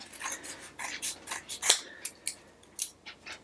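Scissors cut paper into a square for a paper snowflake, a close series of crisp, quick snips and slices in an irregular rhythm.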